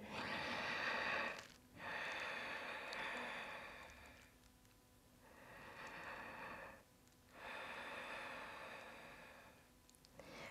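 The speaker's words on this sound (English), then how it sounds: "Breathe in and out in your nose with the sound of the ocean, Ujjayi breathing." Slow, deep ujjayi breaths drawn in and out through the nose during a yoga bow pose, four long ocean-like rushing breaths with brief quiet gaps between them, close and steady.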